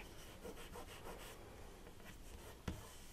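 A finger rubs a punched cardstock piece on a handmade Halloween card, a quiet run of soft scratchy strokes in a steady rhythm close by, ending in a small tap, with no talk.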